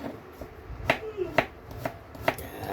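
Garlic being chopped on a board for a monggo dish, four or five crisp knife thuds at an uneven pace, close and fairly quiet, with no talk.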